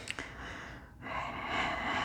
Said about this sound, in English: Sorry, I have to blow my nose.